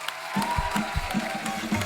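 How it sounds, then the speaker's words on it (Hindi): Audience applause for performers at a tribute show, a dense wash of clapping that rises suddenly after a brief quiet moment and continues steadily. "जोरदार तालियां हो जाएं हमारे कलाकारों के लिए"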